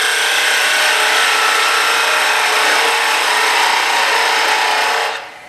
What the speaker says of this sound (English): I'm going to start out with a peeling type of cut